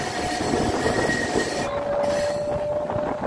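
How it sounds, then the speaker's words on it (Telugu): A MEMU passenger train departs Ramarpadu station, India, rolling steadily and loudly, with rumbling wheels and a thin metallic squeal running through, close by and continuous. "రామర్పాడు నుండి మన ట్రైన్ అయితే బయలుదేరిపోయింది"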